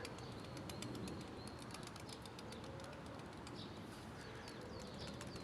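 Pigeons arriving and flapping their wings, faint and somewhat distant within a steady wash of outdoor noise, with no clear individual wingbeats standing out.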